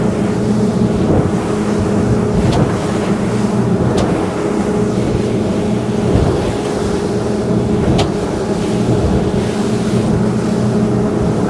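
A 2022 Fjord 38 Xpress motorboat runs at speed through choppy water, its engines droning steadily under loud wind rush and hull slap, with occasional sharper thuds as the bow hits the chop; no one talks.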